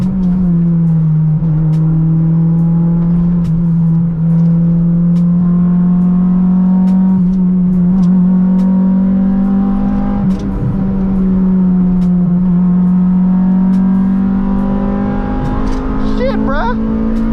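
A Honda Integra's engine revs hard into VTEC above 6,000 RPM, a loud sustained rising drone heard from inside the car, with voices talking over it.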